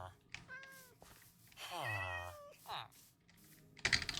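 A cat in the video game Minecraft meows several times, including a long drawn-out mew, mixed with a person talking and a closing burst of quick keyboard clicks.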